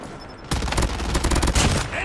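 Automated sentry gun in a Call of Duty game, sustained rapid loud gunfire bursting in abruptly and rattling continuously for over a second and a half, no talk over it.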